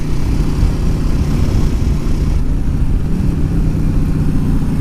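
A Yamaha XVS650 Dragstar V-twin motorcycle pulls in fourth gear on a back road, its engine a loud, continuous low throb with wind rush, heard close from the rider's position.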